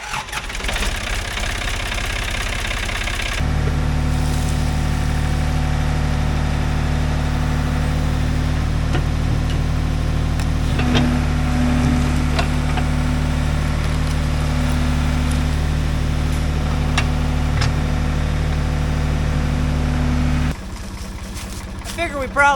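An old backhoe's diesel engine kicks in loud after a few seconds and runs with a steady, throbbing, knocking drone for about seventeen seconds, then drops back to quieter background noise.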